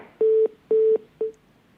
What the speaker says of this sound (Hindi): डॉक्टर धनोज का फोन डिस्कनेक्ट हो गया